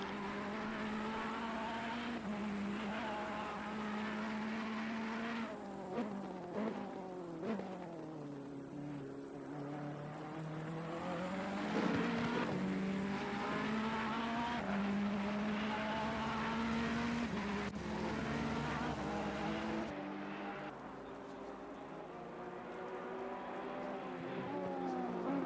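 Simulated race cars, including a Ferrari and a Honda, circulate the Zolder circuit in a racing video game, their engine notes rising and falling continuously through gear changes and corners at steady loudness.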